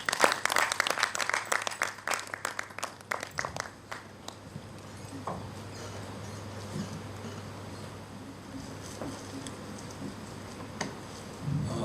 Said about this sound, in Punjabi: ਇੱਕ ਵਾਰ ਜ਼ੋਰਦਾਰ ਤਾੜੀ।